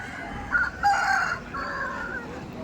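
Roosters crowing at a village cockfight market in the Sundarbans, with several loud crows and clucks in quick succession over a low murmur of outdoor background noise.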